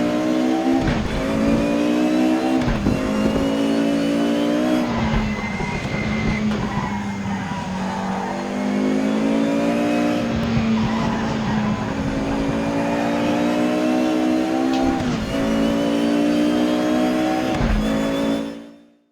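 A race car engine in the RaceRoom racing game screams steadily at high revs and climbs through several gear changes, with tire squeal and skidding over a long, close, loud run before a quick fade at the end.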